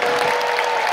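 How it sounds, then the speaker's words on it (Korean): An audience applauds loudly and continuously at a farewell speech for a company president at Amway Korea, a dense wash of clapping with no pauses. "수고해주신 사장님께 다시 한번 큰 함성과 박수를 부탁드립니다."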